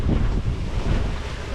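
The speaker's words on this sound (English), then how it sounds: "Nice breeze, going for a sail." Steady breeze rushing past a sailboat under full sail at about 6.5 knots, a dense, loud roar of wind over the microphone mixed with water wash, continuous and unbroken, with no voices.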